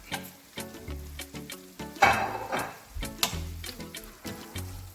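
Beef devil with spring onion greens being stirred and tossed in a frying pan, with a steady sizzle under repeated spoon scrapes and clanks against the metal, one louder burst of hiss midway.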